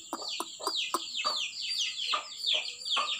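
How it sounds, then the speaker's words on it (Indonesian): Chickens cluck close by in a quick, uneven series of short calls, with a few sharp clicks at the start. "Tuh, ayam kotanya guys."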